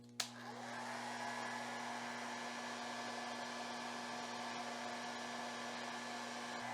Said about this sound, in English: now I can add the hair blow dryer